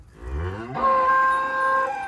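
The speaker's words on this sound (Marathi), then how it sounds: "ये 4 गाई आहे." A single close, loud cow moo that starts low and rises into a sustained, tonal bellow, heard on its own.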